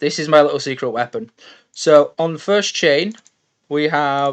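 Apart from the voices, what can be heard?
None of the usual background noises is heard.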